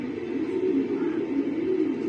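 Low, soft cooing from racing pigeons in a loft, a continuous gentle murmur close by without talking.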